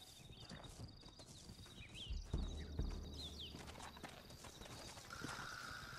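Steady clip-clop of hooves from several horses walking in Red Dead Redemption, over a constant background hum, with a couple of heavier thuds midway.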